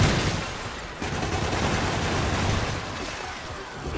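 Enemy gunfire in Marvel's Spider-Man Remastered on PS5: a dense, continuous barrage of rapid shots fills the whole stretch, loud and close, with a brief dip near the first second and no talk.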